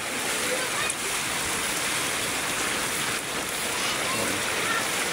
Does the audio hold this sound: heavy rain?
yes